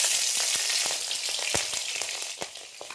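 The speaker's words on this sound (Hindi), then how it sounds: "अब इसमें हम डालेंगे फोरन के लिए सबसे पहले मिर्ची।" Chillies sizzle and crackle in hot mustard oil in a kadhai as a spice tempering, with a steady loud frying hiss broken by sharp spitting pops throughout, no voices.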